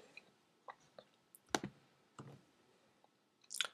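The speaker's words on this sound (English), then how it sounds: "I'm just going to click on the Create App here" A computer mouse clicks on a button in a quiet room, a handful of sharp, close clicks spread unevenly over a few seconds, with a louder cluster near the end.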